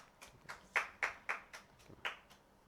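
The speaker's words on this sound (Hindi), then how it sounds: "आप लोग ताली बजाइएगा, हम सेलिब्रेट करते हैं" Scattered claps from a small audience at a cake-cutting celebration, about nine sharp, distinct hand claps in an uneven rhythm, fairly quiet and close, with no talking.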